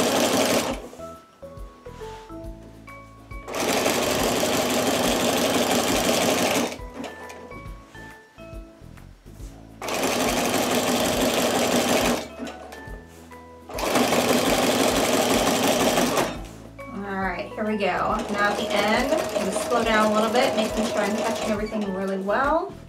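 A sewing machine stitching a jelly roll rug in repeated bursts of rapid, loud mechanical whirring, stopping and starting several times, with someone speaking in the pauses and over the last run.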